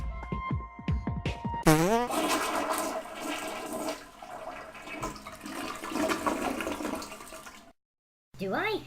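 A toilet flushes close by, a loud rushing gush of water that swirls and drains for several seconds before cutting off, preceded by brief vocal sounds.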